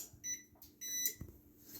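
A kitchen timer gives two short, faint electronic beeps in a home kitchen just as chocolate chip cookies come out of the oven.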